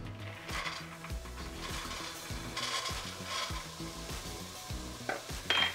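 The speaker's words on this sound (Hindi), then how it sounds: "अब हम अपने चने डालेंगे इसमें।" Small desi black chickpeas are stirred into frying masala, giving a continuous sizzle with repeated scraping and clattering of the spoon against the pan, and a louder rattle near the end.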